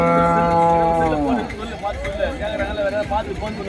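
A native-breed cow at the Madrapalli cattle market gives a long, loud moo with rising and falling pitch, followed by a busy hubbub of people talking nearby and other market noise.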